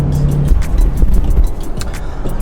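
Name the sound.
2020 Toyota 4Runner passing a truck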